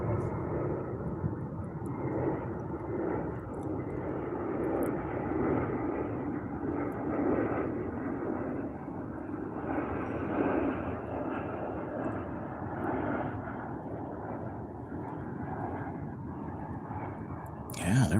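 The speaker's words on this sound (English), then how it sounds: "I think that's an Airbus that goes" Delta Airbus airliner passing overhead outdoors, a steady broad engine roar that holds for the whole stretch with people talking over it.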